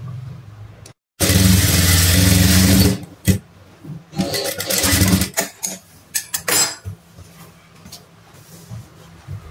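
A sewing machine stitching a long basting stitch on a blouse strip, with one loud sustained whirring run followed by shorter stop-start bursts of the motor, close up and without speech.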